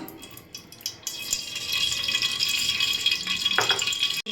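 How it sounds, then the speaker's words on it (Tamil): Cooking oil is poured into a heated kadai on a stove, making a rising, steady pouring hiss that builds and holds, with a brief clink near the end. "கடாய் ஹீட் ஆயிடுச்சு இப்போ நம்ம தேவையான எண்ணெய் ஊற்றிக்கலாம்"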